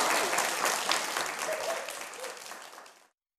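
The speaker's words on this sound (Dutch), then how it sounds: "Toch een applaus." Applause from a gathered audience at a reading breakfast, a dense burst of many hands clapping that is loud at first, then gradually thins and fades out over about three seconds.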